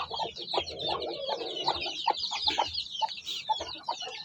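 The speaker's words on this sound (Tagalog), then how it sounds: "So magandang inahin to." A hen clucks in short, repeated bursts nearby, with other chickens chattering and cheeping around it.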